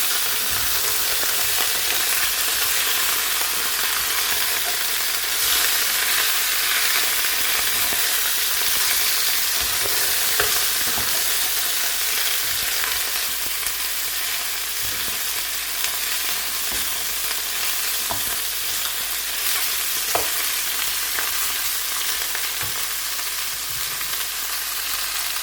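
Chicken drumsticks fry steadily in a pan, a dense continuous sizzle with occasional pops and stirring clatter, loud and close throughout with no talking.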